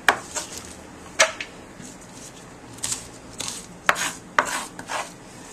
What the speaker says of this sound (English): I'm just going to finish slicing all this amaranth